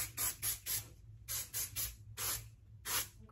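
Aussie Instant Freeze finishing hairspray hisses onto a short pixie cut in about seven quick, close, evenly spaced bursts, each a short sharp spray followed by a brief pause.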